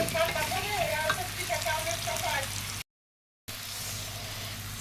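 Shrimp fries in a pan with garlic, cumin and onion, giving a steady moderate sizzle with light stirring and a brief voice early on, broken by a short gap of silence before the frying resumes.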